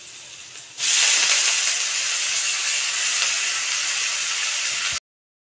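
Water spinach greens drop into a hot pan already seasoned with bay leaf, salt and turmeric for a masoor dal dish, setting off a loud, steady sizzling hiss that starts abruptly and holds until it cuts off.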